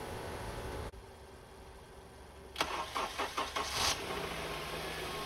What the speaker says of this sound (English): Now I jump the car to start it up.